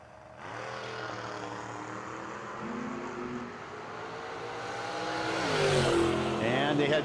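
No-box drag race cars on a 660-foot track roar off the line and accelerate away, a loud sustained engine drone that swells toward the end, with commentary faintly audible under it.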